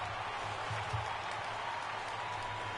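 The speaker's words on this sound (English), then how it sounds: "Nimmo deserves some applause from these Mets fans, as he rightfully just did." Mets fans at Citi Field give a player a round of applause during a baseball game against the Nationals. Crowd clapping sounds steady and distant through a radio broadcast, with a low hum underneath.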